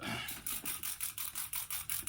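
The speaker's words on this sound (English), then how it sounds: "spray down your headlight" Quick repeated spritzes from a spray bottle wetting a car headlight before sanding, about ten short hissing bursts in a steady rhythm, close and fairly quiet.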